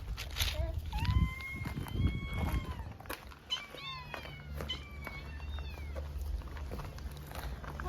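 Several cats meowing outdoors around bowls of food and water, repeated high rising calls overlapping at close range, with people talking throughout and a steady low background hum.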